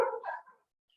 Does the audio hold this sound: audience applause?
no